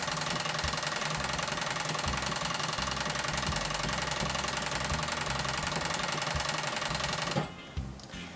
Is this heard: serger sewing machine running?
yes